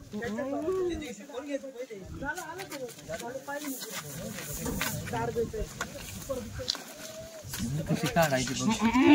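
Kathiawadi goats at a livestock sale bleat repeatedly in wavering, nasal calls, close by and overlapping with lively conversation among people nearby.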